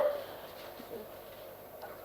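Faint dog whimpers and a soft yip or two from dogs at a shelter, quiet and intermittent against a low background hum.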